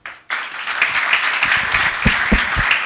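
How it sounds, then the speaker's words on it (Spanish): An audience bursts into applause after a short silence, a loud, sustained wash of many hands clapping at close range for a few seconds. "también un aplauso para alguien que no está físicamente presente"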